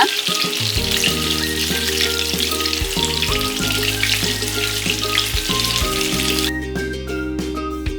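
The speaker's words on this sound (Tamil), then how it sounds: "இப்போ இதை பொறுமையாக ரெண்டு பக்கமும் திருப்பி விட்டு நல்லா வதக்கி எடுங்க" Brinjal pieces fry in oil in a pan, a loud, continuous sizzle and crackle held steady throughout with constant bubbling. The hiss eases slightly near the end, and no one speaks.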